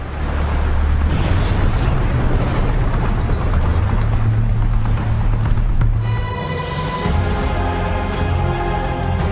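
The rumbling cataclysm scene from an anime brings a loud, continuous deep roar and rumble, like a massive eruption or stampede, dense and unbroken throughout, with brighter crashing texture toward the end.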